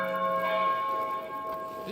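A church bell tolls for prayer time in the monastery game Pentiment, one clear resonant ring with a long humming decay, alone and fairly close.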